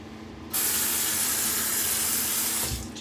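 Bathroom tap turned on for shaving, water gushing steadily and loudly into a sink after a brief quiet start, then tapering slightly at the end.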